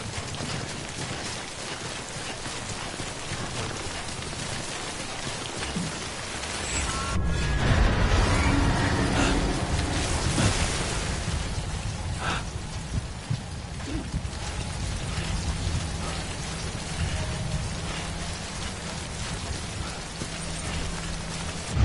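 Steady rain falls in a video game, a continuous wash of drops with a louder gust-like swell partway through, then settling back into a constant patter, with no voices.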